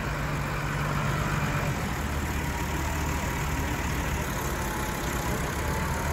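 A JCB Fastrac tractor engine idles steadily at close range, a continuous low rumble with a faint mechanical whine, no voices over it.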